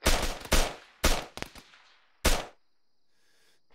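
A coordinated volley of rifle shots in Arma 3, several loud close cracks in quick succession, then a final shot after a pause, with quiet ringing between.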